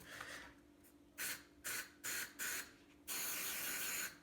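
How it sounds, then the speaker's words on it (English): An aerosol can sprays in a few short hissing bursts, then one longer continuous spray, close by with quiet pauses between. "give this a bit of a shake and spray this into here"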